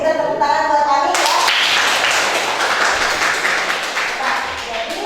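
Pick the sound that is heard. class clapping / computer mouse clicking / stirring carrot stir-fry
class clapping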